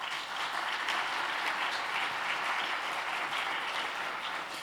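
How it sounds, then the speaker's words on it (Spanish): An audience at an awards ceremony for financial transparency applauds a commission president, a dense, steady wash of clapping from many hands that stays even and fairly loud for several seconds, with no voices over it. "a quien le pido un aplauso, por favor."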